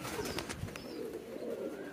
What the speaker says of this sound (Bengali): এই কবুতরগুলো দেখেন